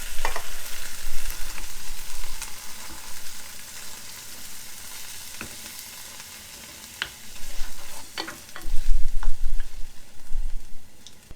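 Tomato paste and tomatoes sizzle loudly in a frying pan, a steady, close frying hiss with occasional stirring scrapes and pops.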